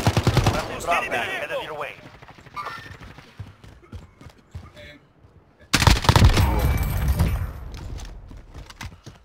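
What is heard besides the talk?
gunfire in Call of Duty Modern Warfare video game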